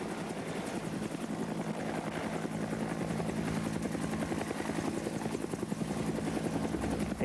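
A military helicopter from 1980s special operations in flight, its rotor beating in a loud, continuous rapid chop that fills the whole stretch without talk.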